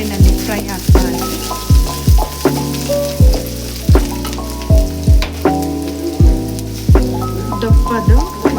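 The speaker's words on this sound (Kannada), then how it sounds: "ಎಣ್ಣೆಯಲ್ಲಿ ಫ್ರೈ ಆಗ್ತಾ ಇದೆ" Five pieces of cinnamon and four cloves fry in hot oil as the first step of a chicken masala gravy, giving a close, steady sizzle with recurring rhythmic pops and crackles.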